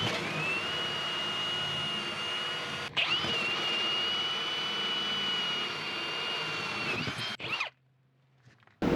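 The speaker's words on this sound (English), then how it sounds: "Now I'm going to use a 2-inch hole saw for each one of these." A 2-inch hole saw drills through material while installing a fresh-air mini split, a loud, steady whining grind that runs for about seven seconds, breaks briefly near the three-second mark, then stops abruptly.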